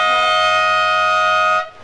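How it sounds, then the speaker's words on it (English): Horn-like siren at a surf contest signaling the end of a heat, one loud steady tonal blast that stops abruptly. "So that's the siren sounding."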